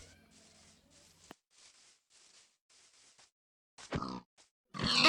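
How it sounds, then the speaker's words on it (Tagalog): Pig grunts in a survival video game, a few short rough bursts near the end after a stretch of faint, patchy game noise, moderately loud and without talk. "At may nakita akong baboy, pinatay ko na rin to."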